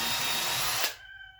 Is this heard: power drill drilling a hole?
yes